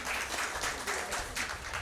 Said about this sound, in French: On les applaudit quand même